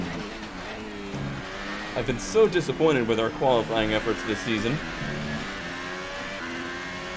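A Formula 1 race car in F1 2018, driven hard through a chicane in France: the engine rises and falls in sharp revving sweeps as it brakes and accelerates, fairly close, with someone talking over it throughout.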